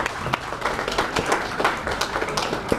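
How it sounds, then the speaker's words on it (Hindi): Audience applauds at an award ceremony, a dense patter of many hands clapping steadily at moderate distance for a few seconds. "जोरदार ताली बजा दीजिए"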